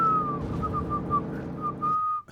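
A sustained, wavering whistle from the strategy game Hearts of Iron IV plays steadily at moderate volume with slight pitch dips, then stops abruptly near the end.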